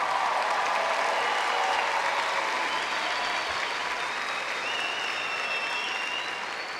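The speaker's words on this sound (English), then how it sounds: "Please give them a round of applause." A large crowd at a high school graduation ceremony applauds the class of 2019, a loud, dense and sustained roar of clapping that tapers slightly toward the end, with faint cheers mixed in.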